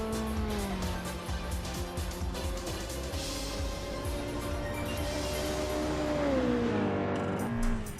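A Honda S2000 engine in the Assetto Corsa racing game drones steadily at sustained revs, pitch holding then dropping as it shifts down, loud and continuous with no talking.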